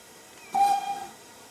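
A quick toot of the steam whistle on a Standard 4MT tank locomotive in Trainz 22, one short clear whistle blast with a burst of hiss, standing alone over a quiet background.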